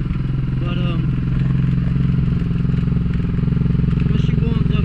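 A Suzuki DR350 motorcycle engine idling after being kick-started, a loud steady thumping rumble close by, with a person talking over it throughout.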